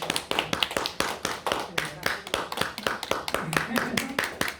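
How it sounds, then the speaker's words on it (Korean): A small group at the end of a music seminar claps steadily for a few seconds, the claps close and uneven, with some voices murmuring underneath. "우리 감사의 박수."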